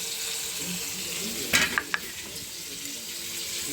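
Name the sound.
ginger cumin chilli masala added to frying pabda fish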